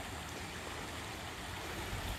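A flooded, muddy storm creek rushes under a highway bridge, giving a steady, dense broadband roar of flowing water close by, with no talk.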